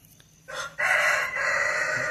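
A rooster crows once, loud and close, the call rising, holding steady and then trailing off, with faint background noise before it.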